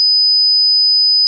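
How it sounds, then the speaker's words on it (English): Piercing 5000 Hz sine tone, a thin high whistle held at steady level for just over a second, isolated and clean. "And 5000 hertz is a piercing sizzle."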